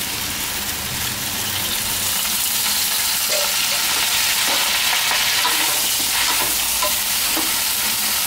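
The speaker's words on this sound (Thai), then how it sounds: "วันนี้ผัดเยอะนะครับพลาดไปหน่อยผัดเยอะแล้วมันเลยผัดยากนิดนึง" Glass noodles stir-fry in oil in a heavily loaded pan, a continuous loud sizzle broken by repeated scraping and tossing strokes, close up with no talking.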